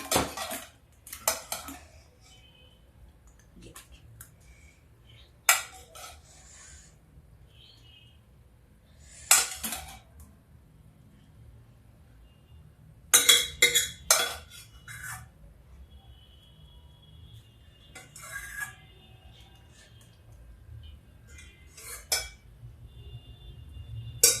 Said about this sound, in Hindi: ये देखिए अब मैं दाल को करती हूँ सर्व